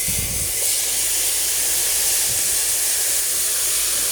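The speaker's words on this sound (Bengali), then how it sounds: "দেখো গ্যাস পেঁয়াজটা ভাজা হচ্ছে" Onion frying in oil in a pan on a gas stove gives a steady, loud, close sizzling hiss that fills the whole clip without a break.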